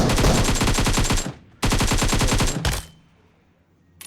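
Loud bursts of rapid automatic gunfire in PUBG Mobile, two long volleys separated by a short pause, followed by a single sharp shot and quiet.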